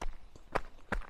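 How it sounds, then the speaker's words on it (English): Footsteps crunching snails on an outdoor walking path, three distinct close crunchy steps spaced apart in quiet surroundings. "Crunchy wanker snails."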